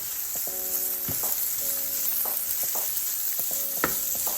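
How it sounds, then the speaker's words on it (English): Garlic sizzles and crackles in a hot frying pan, a steady close fry broken by a few scraping stirs and short tonal squeaks of the pan. "And then I'm going to add my my garlic."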